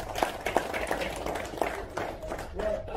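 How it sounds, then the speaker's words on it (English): Audience applause at a live business breakfast event in Dubai, scattered claps rising and falling over a few seconds with crowd noise and some voices mixed in. "Give yourselves a massive round of applause"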